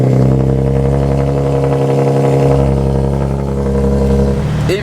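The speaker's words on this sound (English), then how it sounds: "I'm about to start up the car." Nissan 370Z/350Z sports car engine runs with a loud, steady, close-up droning hum with strong low tones, holding an even idle with a brief dip and ending in a short clatter.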